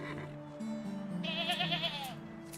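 A sheep in the Medieval Dynasty video game gives a drawn-out, wavering bleat while being sheared, fairly quiet and alone with no talking.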